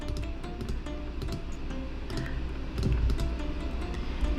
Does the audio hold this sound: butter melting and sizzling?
no